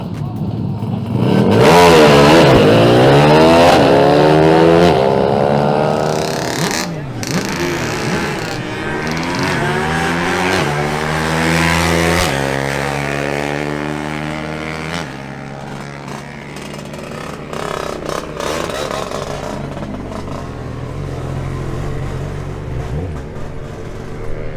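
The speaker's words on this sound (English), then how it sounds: "Now, it's time for Eduardo Garcia and his Suzuki AX 100 to qualify." Suzuki AX 100 motorcycle launching in a 16-second drag race in Barranquilla: a loud, close two-stroke wail climbing through repeated gear changes, then fading as it pulls away.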